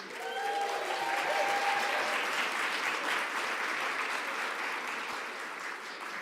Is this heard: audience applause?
yes